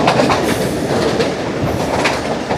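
A train pulls into Golra railway station near Rawalpindi on a heritage safari run toward Attock Khurd under a thirty-kilometre caution, giving a steady, loud rolling rumble with faint clickety-clack of wheels throughout.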